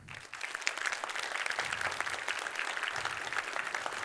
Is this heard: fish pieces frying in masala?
no